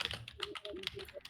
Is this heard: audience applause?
no